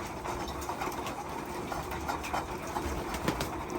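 Pigeons cooing softly over a steady, noisy outdoor background hum.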